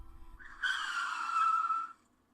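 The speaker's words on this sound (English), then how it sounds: "That's the sound of our disbelief hitting the brakes" A single sustained screech of brakes, loud and alone, rising abruptly and holding for over a second before cutting off.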